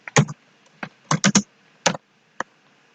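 Typing code on a computer keyboard, with short, irregular clusters of crisp key clicks and a few isolated taps, heard close up in a quiet room.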